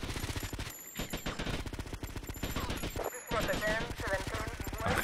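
Rapid gunfire in the GTA Vice City Hardline mod: dense, loud bursts of automatic shots repeating almost without pause, broken by two brief gaps, with a player talking faintly underneath.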